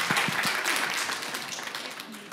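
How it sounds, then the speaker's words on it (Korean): An audience at a book concert claps to welcome a child performer, a dense burst of applause that stays steady and slowly thins over a couple of seconds. "박수로 맞이하겠습니다."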